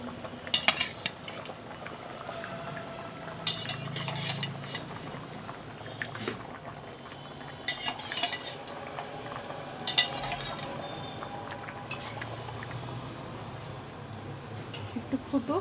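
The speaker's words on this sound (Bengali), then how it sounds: "আমি মাছ আজকে রান্না করছি আলু পটল দিয়ে" Fish fried with potato and pointed gourd is stirred in a pan, with intermittent scraping and clinks of a utensil against the pan over a low, steady sizzle, the stirring bursts coming in irregular clusters.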